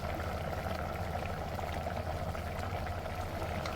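Water poured into boiling sambar in a pot: a continuous, even rush of liquid and bubbling, close and steady throughout, with no speech.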